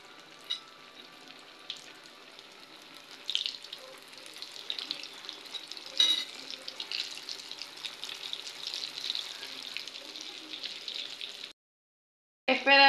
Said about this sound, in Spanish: Y luego la vamos a rebozar solamente en harina de trigo para ponerla a freír